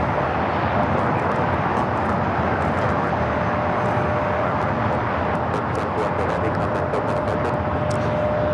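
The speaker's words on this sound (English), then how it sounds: "Up next we have the Japan Airlines Dreamliner." Japan Airlines Dreamliner taking off at LAX, heard as a continuous broadband engine rumble and roar, steady and even in level from start to finish, with no distinct peaks.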